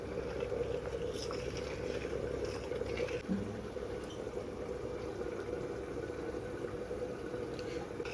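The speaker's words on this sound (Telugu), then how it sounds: "బాగా మరుగుతుంది వాటర్." Steady, dense bubbling of water at a rolling boil in a pot, a continuous roiling hiss with no voices.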